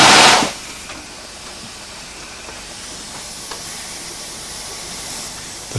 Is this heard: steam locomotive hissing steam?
yes